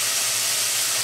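Tomatoes with garlic cook in a pot for fresh tomato sauce, giving a steady, even hiss and gentle sizzle of steam that holds at moderate level throughout, with no voices.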